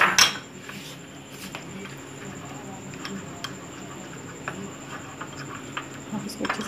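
A spoon mixes melted chocolate and butter batter for a choco lava cake in a bowl, giving soft repeated scraping and light clinks against the bowl under continuous nearby speech.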